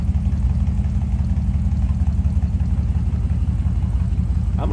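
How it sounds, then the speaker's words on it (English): A 1955 Ford Sunliner convertible's 272 V8 idles with a steady, loud low rumble from close behind the car, with an even pulsing throb that holds throughout. "Nothing crazy, just a nice little rumble coming out of that 272 V8."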